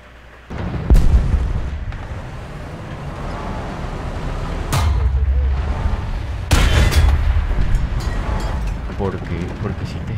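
Tank cannon fire in the video game War Thunder: three heavy booming shots spaced a few seconds apart, each a loud broadband blast over a continuous rumbling battlefield background.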